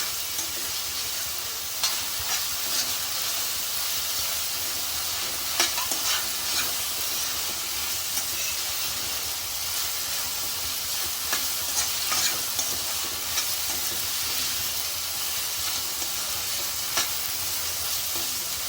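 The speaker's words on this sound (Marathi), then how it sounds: "कांदा थोडा शिजवून घेते" Onion frying in a pan for methi bhaji gives a steady, close hiss of sizzling oil, broken by occasional scraping clicks as it is stirred, with no talk.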